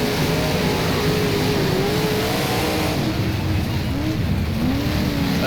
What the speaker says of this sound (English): let you listen to the sounds of this car as I hit the fence